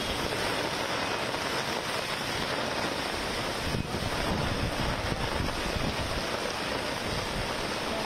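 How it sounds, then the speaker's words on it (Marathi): Rough, churning sea and gusting wind along the Worli shoreline in Mumbai during heavy monsoon rain, a dense steady roar with microphone buffeting and no voices. "समुद्र खवळलेला दिसतोय"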